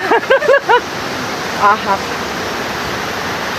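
Strong water rushes through a green mountain stream as a constant broadband roar, close and loud, while a person briefly vocalizes and speaks at the start and again midway.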